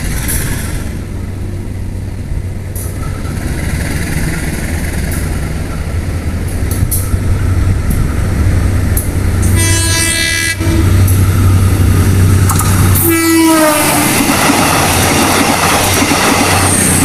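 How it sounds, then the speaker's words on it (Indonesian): A high-speed train roars past at close range, a loud sustained rumble of wheels and rushing air with a horn blast partway through and a squealing, whining tone near the end. "kereta cepatnya udah datang tuh."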